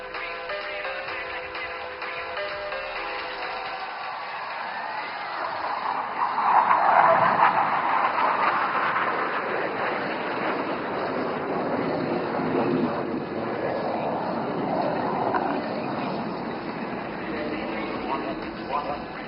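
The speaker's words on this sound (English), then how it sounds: "you will see 5 aircraft flying in formation and coming in from your right" Five military jets in formation at the Aero India airshow over Yelahanka Air Force Station sweep in with a broad jet roar that swells to a peak, then fades slowly, carried along under steady announcer talk.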